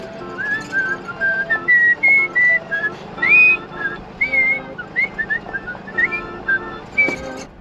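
Someone whistles a lilting melody in clear, sustained notes with short pauses between phrases, over faint background music.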